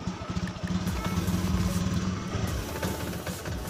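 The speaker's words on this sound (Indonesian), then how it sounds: "kita coba hidupkan dulu sepeda motornya seperti ini ya" A Honda motorcycle engine with a weak fuel pump, fuel-injected, running at a steady low idle with a throbbing, even pulse close to the microphone, alone without talk.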